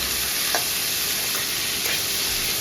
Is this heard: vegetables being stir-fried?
yes